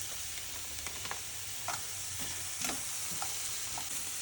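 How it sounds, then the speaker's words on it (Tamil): Paneer sandwich filling with turmeric and masala sautéing in a pan, with a steady loud sizzle and hiss and intermittent scraping stirs. "கொஞ்சம் கோல்டன் ப்ரௌன் அளவுக்கு வர அளவுக்கு சாட்டே மாதிரி பண்ணிக்கலாம் கைஸ்"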